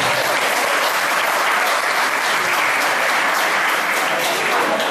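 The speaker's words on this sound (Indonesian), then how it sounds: "tepuk tangan dulu aja." Crowd applause at a stand-up comedy open mic night in Indonesia. Thick, continuous clapping from the audience stays loud and even for about five seconds, with no talking over it.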